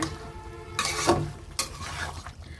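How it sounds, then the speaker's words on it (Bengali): Beef for kala bhuna is stirred in a hot pan, with scraping bursts of stirring over a low sizzle; two distinct stirring strokes stand out close and loud. "আমি এটা এখন সুন্দরভাবে কষাতে কষাতে কালো করে ফেলবো"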